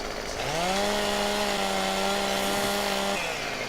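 Game chainsaw from Farming Simulator 17 cutting back a tree on a farm map, a steady droning whine that rises at the start, holds evenly for about three seconds and then cuts off, alone with no talk.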